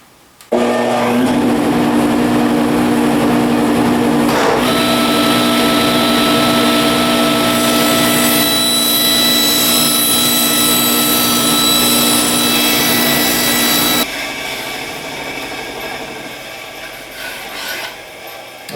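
A power saw cuts wood set to a 32-degree angle, with a hand-screw clamp serving as a stop, making a loud continuous whine for about thirteen seconds that then drops to a quieter run-down, with no talk.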